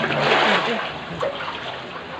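Steady wash of rushing, splashing floodwater from a dam release fills the clip, loud and close, with a brief swell near the start and no voices.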